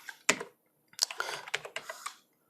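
Close computer keyboard typing while a file is saved on a desktop: one sharp isolated keystroke, a pause, then a quick burst of several clicky presses and taps at an uneven pace, with no voices.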